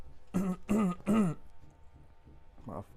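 Three quick throat-clearing coughs in a row, close and loud, followed by a quieter grunt after a pause.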